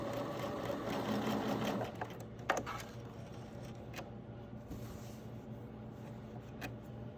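A sewing machine back stitches at the bottom of a centered zipper seam, running in a steady fast hum that slows after a couple of seconds, with a few clicks and taps as it stops and restarts, no voices.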